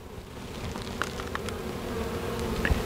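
Honey bees buzzing at an open hive, a steady dense hum close by, with a few faint clicks and handling noises.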